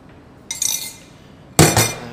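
Metal whisk striking the side of a bowl while mixing pancake batter of eggs, self-raising flour, sugar, salt and milk, two short bursts of bright clinking separated by a pause, close and clear.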